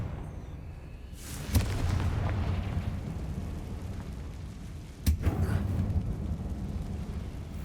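Two sharp Confringo blasting-curse explosions in a dark abandoned mine in Hogwarts Legacy, each a sudden loud bang followed by a rumbling tail over low ambient drone, spaced a few seconds apart.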